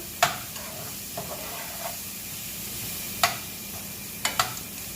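Sautéed vegetables sizzle in a pan at a steady low hiss while a utensil stirs them, scraping and clicking against the pan in a few sharp knocks spread unevenly across the stretch, with no voices.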